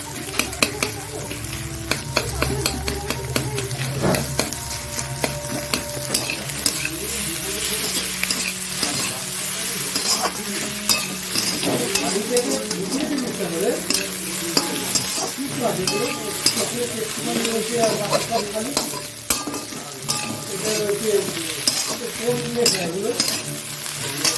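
An egg is stirred into hot oil in a frying dish, with steady sizzling and the scrape and clink of a utensil against the pan running throughout, close and fairly loud with no talk.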